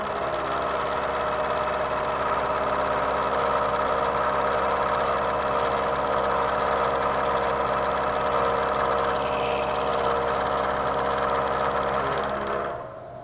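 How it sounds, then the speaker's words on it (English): A milling machine takes a rough face-milling pass, its cutters impacting the material with a steady, loud, vibrating mechanical drone and hum that holds evenly for the whole stretch before easing off at the very end. "Now when I start cutting, you're gonna hear the machine cutting pretty good."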